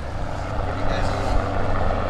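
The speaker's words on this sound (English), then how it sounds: "check out this helicopter coming by" A helicopter's rotor drones steadily in the distance over Lake Como, Italy, a low throbbing engine hum holding level the whole time.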